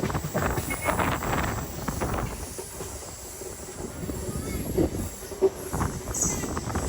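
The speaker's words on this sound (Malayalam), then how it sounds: "അതാണ് നമ്മുടെ ട്രെയിൻ. ഇതാണ് ട്രെയിനിന്റെ ഫ്രണ്ട്." A passenger train rumbles along the rails, a steady mid-level roll with faint squeal and hiss and a few sharp clicks, heard from nearby.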